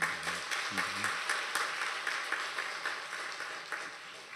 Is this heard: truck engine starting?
no